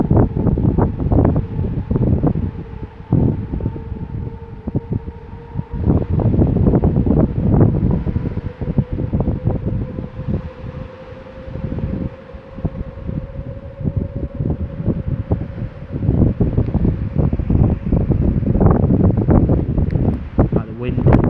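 Strong wind batters the microphone at night, a heavy continuous buffeting roar with gusty surges and dips, while a faint whistling tone runs through it.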